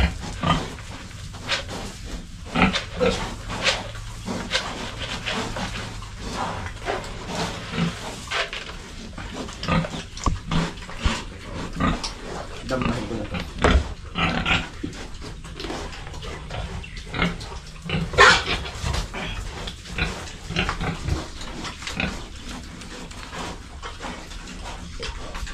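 Pigs on a piggery farm grunt, snort and squeal in irregular overlapping bursts for the whole stretch, with scattered splashing and clatter and no talking.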